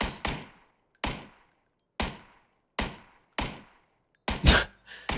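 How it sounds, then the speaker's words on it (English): Sharp gunshots in PUBG, about seven distinct cracks fired at roughly one-second intervals, each with a short decaying tail, the last one louder and nearer. "Desina takes shots at Papa."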